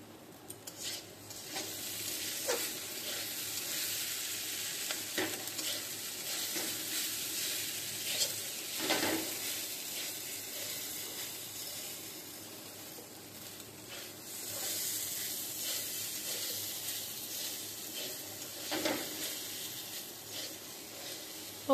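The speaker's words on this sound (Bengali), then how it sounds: "ভালো করে চালটা ভেজে নিতে হবে।" Rice being fried in ghee for pulao, a quiet, steady sizzle with occasional soft stirring scrapes spread across a long stretch, close but faint and with no voices.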